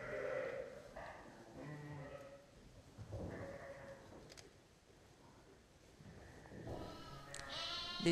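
Bleating ewes and lambs fill a sheepfold in Lozère. Overlapping calls come near and far, with a quieter gap midway and a loud, shrill lamb cry near the end.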